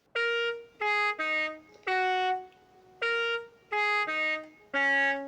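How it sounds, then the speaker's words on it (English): Minecraft-themed car horn on a Bentley Bentayga in Forza Horizon 5, sounding as a series of seven clear, tonal honks of varying pitch. The notes come in an uneven melodic rhythm, loud and alone, with no talking. "We have ourselves the Bentley Bentayga and the Minecraft themed car horn,"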